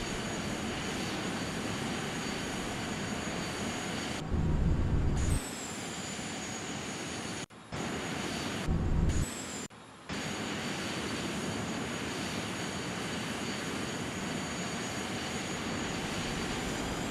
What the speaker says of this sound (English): Adjust thrust to maintain 130 knots as we descend toward the runway.